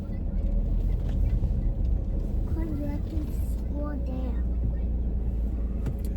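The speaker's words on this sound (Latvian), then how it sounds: "Braukā ir maza mašīnīte šonadēļ." A small car driving, a steady low engine and road rumble from inside the cabin, fairly quiet and constant, with a voice speaking briefly over it.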